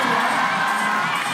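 An arena crowd at a Seoul lead climbing semi-final roars and cheers for climber Serato, a dense, loud wash of shouts and whoops that stays steady throughout.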